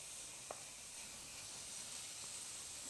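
Steady, quiet hiss of bacon sizzling in a pan, a constant bright crackle with a couple of tiny pops, no voices.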